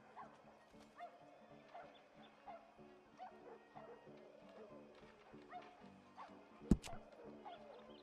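A faithful dog in Red Dead Online gives soft, repeated yips and whimpers, faint and close, over a quiet game background with a single sharp knock near the end.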